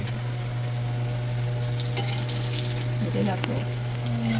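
Malvani chicken frying in a pan sizzles steadily beneath a constant low hum, with occasional stirring scrapes and clatters.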